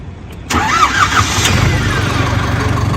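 A tractor engine is started close by. A short crank catches into a loud, steady diesel idle that keeps running evenly to the end.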